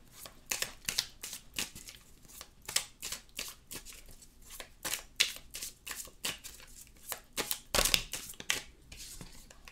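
Tarot cards being shuffled by hand in a long run of quick, crisp riffling bursts, close and fairly loud, with one sharper snap near the end and no talk over it.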